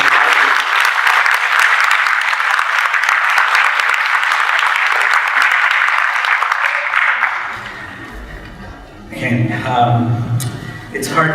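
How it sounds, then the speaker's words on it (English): Sustained audience applause at a police community seminar on hate crimes, dense and steady for about seven seconds before fading, followed by a few scattered claps as a voice resumes. "please give her a round of applause for all our police"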